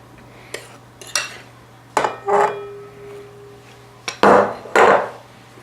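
A spoon clatters against a bowl while flour is spooned into banana bread batter and mixed: several sharp knocks and scrapes come in short bursts, separated by quiet pauses.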